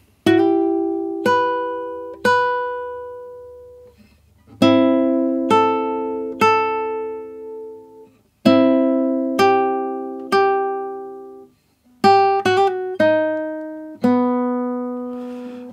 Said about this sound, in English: I'm playing it on a classical guitar.